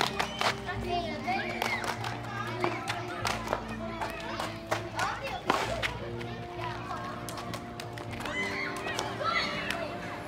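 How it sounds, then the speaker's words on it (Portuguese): A small group claps for a child named Sently: quick, uneven claps mixed with children's voices and movement in a room. Sharp hand claps stand out over steady chatter. "Aplauso para Sently."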